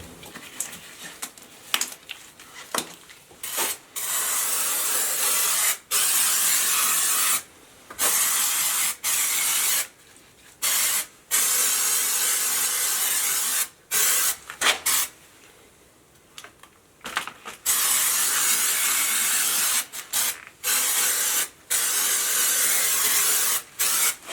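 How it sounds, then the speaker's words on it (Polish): Troton paint remover sprayed from an aerosol can onto a wooden stool being restored in a basement: repeated close hissing bursts of varying length, separated by short silences. "a to akurat jest usuwacz w sprayu."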